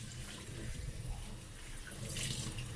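Water runs steadily from a tap while raw lamb for sous vide chops is rinsed in a sink, a soft continuous gush with light splashing close by.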